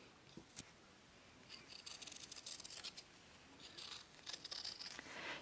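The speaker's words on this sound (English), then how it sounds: "I'm just going to use some scrap fabric here to cut 2 circles" Scissors cut two circles from scrap fabric in a run of faint, quick snips and a soft crisp rustle, close up in a quiet room.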